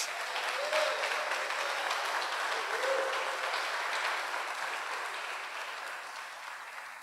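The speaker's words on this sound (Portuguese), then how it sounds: "Nós te aplaudimos, Jesus. Nós te aplaudimos." A church congregation applauds together, a steady wash of many hands clapping that holds evenly throughout and slowly fades a little toward the end, heard at moderate distance.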